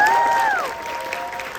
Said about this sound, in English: Can we get another round of applause for everyone up here right now?